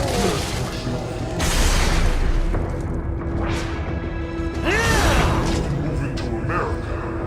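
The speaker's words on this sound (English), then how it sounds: "Firing RPG!" An RPG in Metal Gear Rising fires and detonates amid a dense wall of booming game explosions and rumbling gunfire, loud and continuous, with a brief whoosh near the middle.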